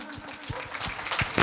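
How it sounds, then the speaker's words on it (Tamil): An audience at a Christmas program claps for children's dance and skit performers, a short burst of scattered hand claps that thickens toward the end. "எல்லாரும் நம்ம எல்லாம் பெரியவங்க எல்லாம் சேர்ந்து அவங்களுக்கு ஒரு பெரிய கைத்தட்டு கொடுக்கலாமா?"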